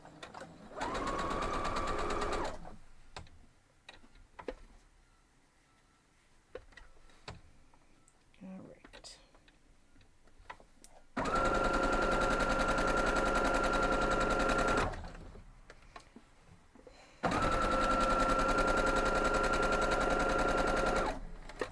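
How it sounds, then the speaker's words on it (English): Sewing machine stitching quilt block pieces in three bursts of rapid, steady needle chatter, close and loud, separated by quieter stretches of handling noises and small clicks. "So we're going to go sew this up, and then we'll trim those."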